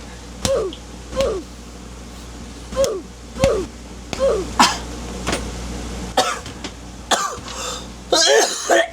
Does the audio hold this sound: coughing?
yes